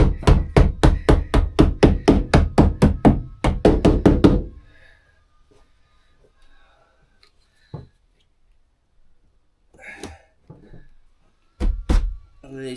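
Rubber U-trim is knocked onto the edge of a van window in a quick run of about fifteen sharp, evenly spaced knocks, followed by quiet with a few scattered taps and rustles.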